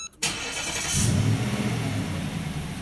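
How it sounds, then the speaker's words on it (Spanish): A 2017 Nissan Titan engine is started remotely: a short crank catches almost at once, then the engine settles into a steady, close-up idle with a slight rev. "You push the remote start button two times and it will crank up the engine."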